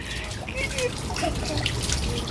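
Water is poured over a young child's head for a hair wash at home, a soft continuous splashing and trickling under nearby adult talk.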